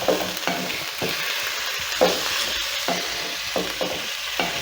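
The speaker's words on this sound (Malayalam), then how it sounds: "ഈ റെഡ് കളറിലുള്ള നെല്ലിക്ക അവസാനം അതാണ് അത് നമുക്കൊന്ന് ഇളക്കി ചേർക്കാം" Red gooseberries being stirred into a dates pickle in a pan, giving repeated scraping stir strokes with a soft sizzle underneath and no talking.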